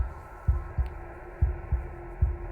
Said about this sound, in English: you guys have been listening to a heartbeat this whole time